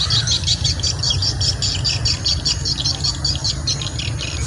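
Swiftlets return to a nesting house beside rice fields. Their dense, loud chirping goes on without a break, with quick repeated calls overlapping throughout.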